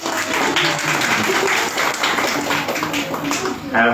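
Birthday applause from a student audience at a coaching institute event, a dense steady wash of many hands clapping throughout with voices mixed in.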